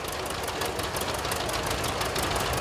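A vintage LP-fuelled tractor engine running in a pioneer village parade, a steady rough knocking idle close by with a continuous rattling drone and no talking over it.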